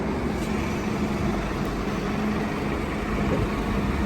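Coastal bus pulling in on a rainy day in Benidorm, Spain: a steady, loud low engine rumble with broadband road and traffic noise, continuous and close, with no talking.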